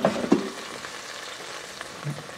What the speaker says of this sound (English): That chicken's just a sizzling in there.